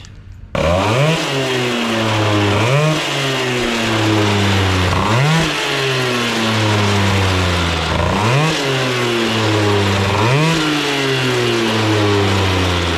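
A moped with a liquid-cooled Polini engine, an MVT S-Race exhaust and a 15 mm carburettor revs hard and close, its loud buzzing whine climbing and dropping again and again in steady waves with no talk.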